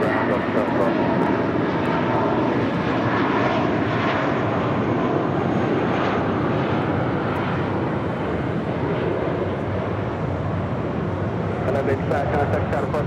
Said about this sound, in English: That is Delta Airlines Flight 712 coming in from Atlanta, Georgia. That's 757-300.